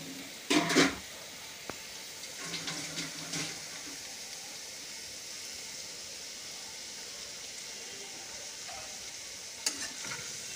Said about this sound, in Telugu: మూత పెట్టకుండా అలానే వేయించుకోవాలి